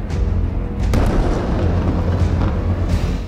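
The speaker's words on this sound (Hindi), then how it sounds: "दूसरा धमाका," A loud deep boom from a Hezbollah missile strike, one of a series of blasts, rolls out as a sustained rumbling roar with a sharper burst near the start, all low and heavy, with no voices.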